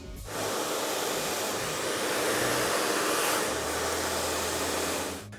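A hair dryer blow-drying dry hair over a brush switches on and roars steadily at close range, its airflow swelling slightly midway before cutting off, with no voices.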